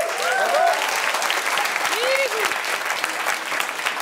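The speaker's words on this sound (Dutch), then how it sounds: "Geef ze een applaus." A studio audience applauds the band on the RTL Late Night talk show, with a dense, sustained clapping wash and a few whoops or whistles rising above it.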